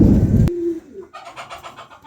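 Pigeons on a hobbyist's pigeon farm, with Mundian birds among them, give soft cooing calls for about a second and a half after a brief loud burst of close noise at the start.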